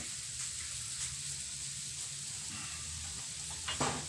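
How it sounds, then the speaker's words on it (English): Bacon sizzles steadily in a pan, a dense continuous crackling hiss with small pops, close and even throughout. "You can hear that bacon sizzling."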